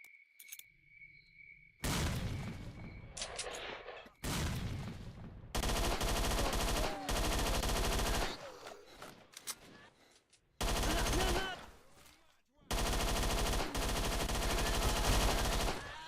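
Grenade explosions in S.T.A.L.K.E.R.: Shadow of Chornobyl, several loud broadband blasts in a row, each with a sustained roaring tail, separated by short quieter gaps.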